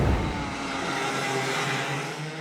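A shifter kart engine screams around the track at Atlanta Motorsports Park, a loud, steady high-revving drone held close throughout, no voices.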